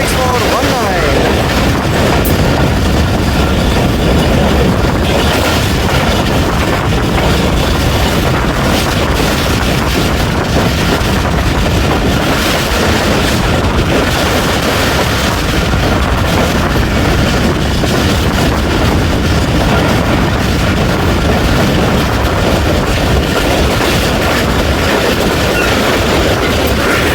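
13 Up Awam Express running at speed, with loud, continuous rumble and rhythmic clickety-clack of the wheels under heavy wind buffeting, steady throughout with no clear speech.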